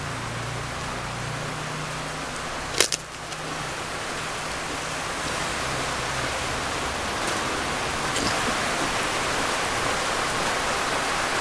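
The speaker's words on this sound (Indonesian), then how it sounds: "Nah, ini di Madiun siang hari ini hujannya juga lumayan deras juga." Heavy rain pours down at midday in Madiun, a dense, even hiss of falling water that holds steady throughout, with one brief knock early on and no voices.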